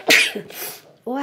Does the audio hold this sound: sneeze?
yes